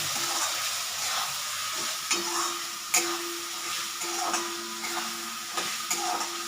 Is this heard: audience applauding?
no